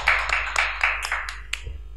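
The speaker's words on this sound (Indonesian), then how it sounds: "Tepuk tangan, Nek" A few people clap in an irregular, sparse rhythm on the set of a podcast, with around seven distinct, fairly close claps spread over two seconds and a steady low hum underneath.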